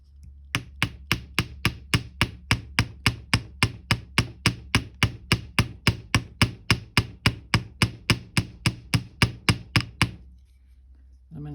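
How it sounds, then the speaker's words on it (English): Steady hammer blows strike the middle of a wire laid on a block, about thirty sharp evenly spaced metallic taps over ten seconds, close and clear, then stopping. "we're going to hammer just the middle part of this"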